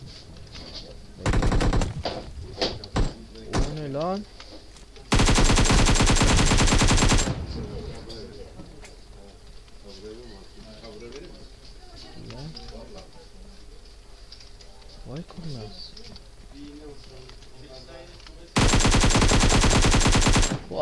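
AKM rifle fire in the battle royale game PUBG, with loud sustained automatic bursts near the start, in the middle and at the end, separated by quieter stretches of someone talking and cooing birds.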